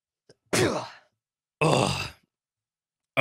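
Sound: sneeze

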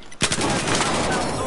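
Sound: machine gun fire in the video game Battlefield

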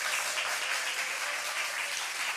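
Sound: audience applause

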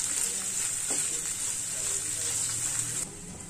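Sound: beans frying in a pan

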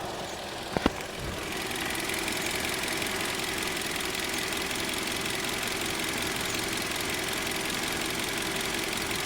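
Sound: car engine idling

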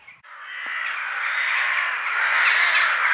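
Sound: crows cawing in the morning at a campsite

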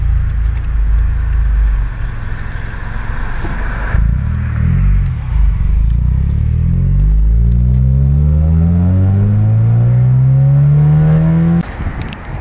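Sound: sports car engine with aftermarket headers

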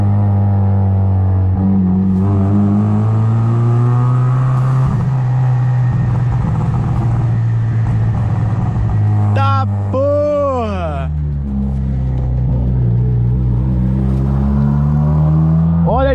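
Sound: car accelerating through a small tunnel

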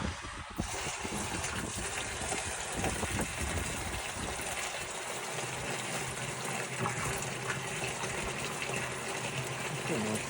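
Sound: water gushing during hydraulic shock in Abyssinian well

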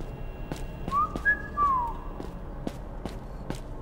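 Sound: character whistling in Sparky Marky video game

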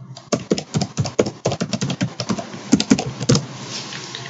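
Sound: typing a password on a computer keyboard

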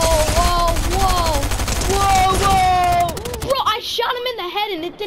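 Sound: gunfire in Fortnite video game

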